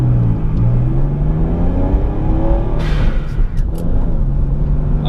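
A 1991 Mitsubishi 3000GT VR-4 AWD manual on a test drive, its engine humming steadily from inside the cabin and rising as it revs, with a brief burst of wind or road noise midway.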